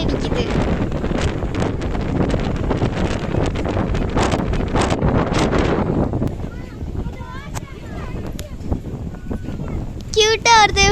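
Strong wind buffets the microphone at the Pichavaram mangrove forest, a loud rough roar that fades after several seconds, leaving softer gusts and people talking nearby.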